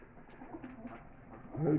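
Soft, low pigeon cooing close by from a mixed flock in Baku, a few throaty coos in quick succession, swelling louder at the end.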